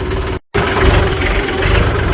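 A tractor engine runs steadily while reversing on a farm, a loud close rumble that cuts out briefly near the start and then resumes at a constant idle-like drone.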